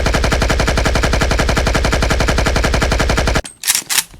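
AK-47 fire in the Roblox game The Streets, a loud, close, continuous automatic spray of evenly spaced shots that cuts off abruptly, followed by a couple of brief softer noises.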